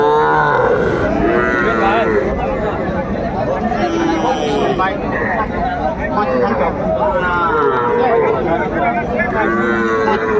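Small bull calves and heifer calves moo repeatedly at a busy livestock market in Kurigram, with loud, drawn-out calls rising over constant crowd chatter and people talking nearby.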